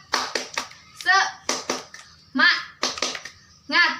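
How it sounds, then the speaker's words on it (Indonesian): Children chant and clap in unison in a classroom, the rhythmic 'tepuk semangat' cheer: short bursts of sharp claps alternating with sung syllables, several quick groups in a steady pattern, close and loud. "kita tepuk semangat dulu ya"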